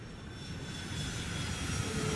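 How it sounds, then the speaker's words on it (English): An Emirates Airbus A380 jet takes off at London Heathrow, its engines producing a loud, steady roar with a high whine that swells slightly as the aircraft climbs away. "Just Emirates 380 is just going up over there."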